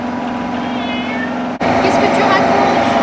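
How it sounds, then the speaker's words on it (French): A cat gives a few faint, short meows over a steady low hum indoors, the thin cries brief and somewhat buried in the background noise. "Et puis maintenant il est parti se cacher et puis il miaule."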